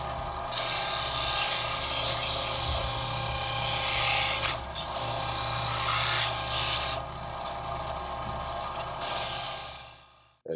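Sandpaper rubs steadily against the inside of a wooden bowl turned from firewood, a continuous loud scratchy rasp with brief pauses around four and seven seconds, close and alone with no talk.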